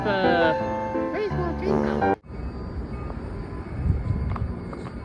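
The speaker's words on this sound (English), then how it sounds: "There is a MARC commuter rail train, making a station stop on its way to Washington, D.C." Rumble of a MARC commuter train idling and pulling through New Carrollton station, bound for Washington, D.C., steady low mechanical noise with brief clanks, after a moment of tonal hum cuts off abruptly.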